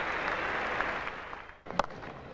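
A cricket crowd at the Sydney Cricket Ground applauds a test-match shot with a broad, distant wash of clapping that dips briefly and then resumes.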